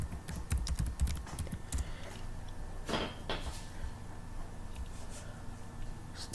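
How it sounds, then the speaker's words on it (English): Someone types a username and password on a computer keyboard while logging into business software. Soft, quick, irregular key clicks continue through the whole stretch, faint and close, with no talking. "So now I'll type in my username and my password."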